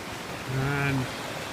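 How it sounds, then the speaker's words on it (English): Steady broadband rush of a mountain waterfall on Scafell Pike, a constant moderate roar that continues throughout, with a brief voice-like tonal sound in the middle. "There is a waterfall here. You can see down there, coming all the way down."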